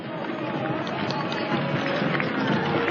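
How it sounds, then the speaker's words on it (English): Crowd along the route of the 1992 La Palma Days Parade applauds in a steady, dense wash of clapping and crowd noise that holds at an even level throughout, with no distinct voices standing out. "Nice round of applause for them."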